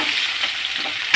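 Potatoes sizzle in hot oil in a pan as they are stirred, a close, continuous frying hiss with a slight scrape near the end.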